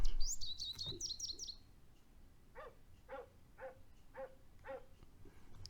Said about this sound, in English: Hear those dogs barking?